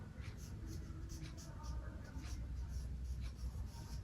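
A pen writes by hand across paper while working through a Class 9 maths exercise, giving a steady, soft scratching that runs the whole time at low level.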